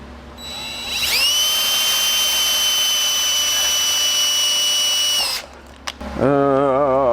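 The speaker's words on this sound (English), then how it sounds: "first thing we gotta do is drill a hole in it" A power drill whirs loudly and steadily for about four seconds, winding up and then spinning down, followed by a brief rattling clunk.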